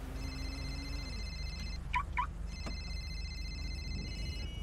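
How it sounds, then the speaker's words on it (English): A phone rings in GTA V on the NoPixel roleplay server, a couple of short electronic ring bursts over quiet game ambience. "My phone's ringing."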